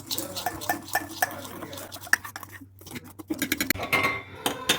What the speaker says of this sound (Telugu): మంచిగా మిక్స్ చేయాలి, చాలా మంచిగా మిక్స్ చేయాలంతా